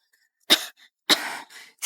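A sick man coughs in two or three short, rough bursts with brief pauses between them, close and fairly quiet, with no talking over them.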